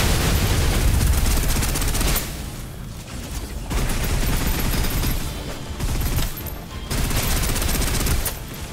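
Sustained suppressive gunfire from a shooter video game, Snowbreak, rattling as dense continuous bursts with two short lulls, loud and close throughout.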